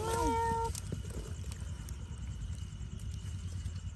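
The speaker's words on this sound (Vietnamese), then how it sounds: "stray cat" A stray cat in a quiet forest gives one short, clear meow at the start, followed by low rumbling background noise and faint rustling.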